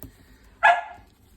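A single sharp dog bark, close and fairly loud, rising out of a quiet room and fading within a fraction of a second.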